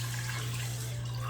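Chicken broth and water pour steadily into a rice cooker, a continuous close liquid rush over a low steady electrical hum, with no talking.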